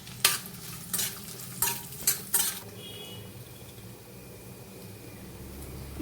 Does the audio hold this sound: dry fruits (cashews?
yes